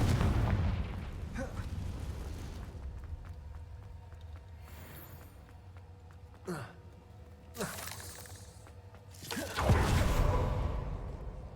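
Confringo fire spells cast in the video game Hogwarts Legacy, sharp booming bursts and whooshes at about 6.5, 7.7 and 9.5 seconds, heard over a low continuous game soundscape.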